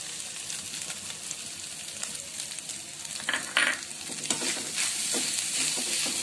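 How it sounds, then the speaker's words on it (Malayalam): Potatoes and chicken pieces tossed together in a frying pan, a steady close sizzle of oil with scraping stirs and a few louder clatters of the spoon partway through. "ഇനി എല്ലാം കൂടെ ഒന്ന് നന്നായിട്ട് മിക്സ് ചെയ്തെടുക്കുക"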